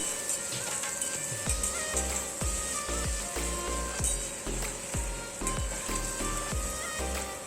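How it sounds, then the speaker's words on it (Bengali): Crushed garlic and spice paste fries in a pan, a constant soft sizzle running throughout with regular low thuds and clinks repeating roughly every half second in the background. "ভালো করে মশলাটা ভেজে নিচ্ছি রসুনটা।"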